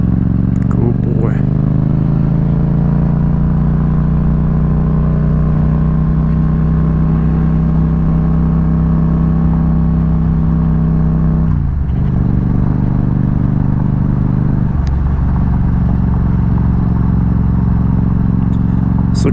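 Yamaha MT-07 motorcycle ridden offroad on gravel near Navajo Lake, New Mexico: a loud, steady engine drone with wind rush and crunching tires, the engine note dipping briefly twice.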